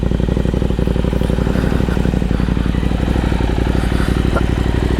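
A KTM 890 SMT motorcycle fitted with a Vandemon exhaust runs continuously, a loud, steady engine note with a rapid pulsing throb and some clatter, close by and without pause.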